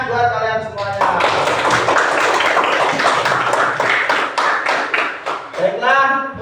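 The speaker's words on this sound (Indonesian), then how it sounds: "Tepuk tangan buat kalian semuanya" Lively clapping from a group of learners in a Qur'an and Hadith class, a loud, dense burst of many hands with voices heard at the start and end.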